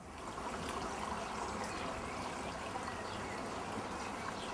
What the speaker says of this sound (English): This is the really good flow from out of the hill.